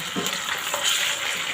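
Garlic ginger paste sizzling and frying in a pan with browned onions for chicken jalfrezi, a steady close hiss with soft stirring scrapes throughout.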